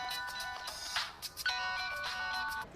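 A phone rings in repeated electronic bursts, two ring cycles with a short gap between them, fairly close and clear with no talking.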